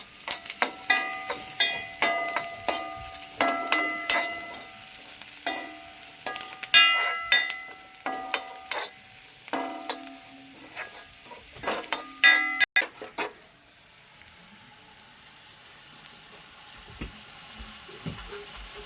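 Onion fries with turmeric and salt while a spoon stirs it, giving repeated clanks and scrapes over a crackling sizzle, loud and busy at first and then settling to a quieter fry.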